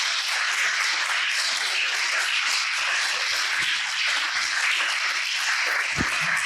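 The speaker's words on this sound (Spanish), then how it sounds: "Dale un aplauso al Señor." Church congregation applauding together, a dense sustained wash of many clapping hands filling the room, steady and fairly loud throughout.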